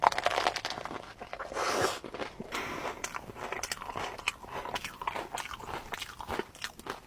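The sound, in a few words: biting crunchy white chocolate peanut praline treat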